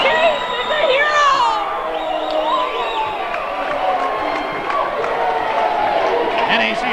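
A crowd at a JV boys basketball game cheers and whoops loudly after a last-second game-winning shot, sustained roaring and shouting with an announcer talking over it.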